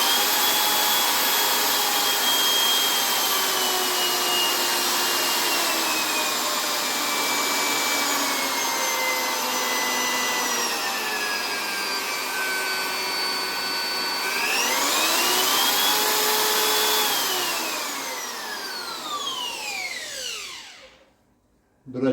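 A Bosch Professional GOF 130 router runs continuously with a loud, high whine whose pitch drifts and shifts as it works, rising sharply near the end before the motor winds down and stops.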